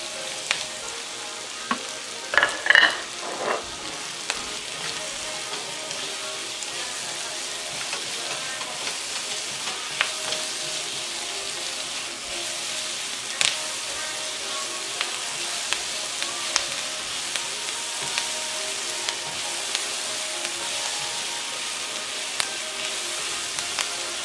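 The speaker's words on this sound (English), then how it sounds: "And the onions. I'll let it brown, light brown." Onions frying and browning in a pan for a Brazilian fish stew, a continuous close sizzle with scattered light pops and stirring clicks, no talk.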